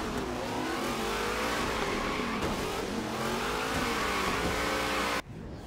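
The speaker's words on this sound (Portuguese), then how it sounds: "olha o motor desse carro, meu amigo" Nissan GT-R engine in the racing game Forza Horizon 3, revving loudly and continuously with rising and falling pitch before cutting off suddenly near the end.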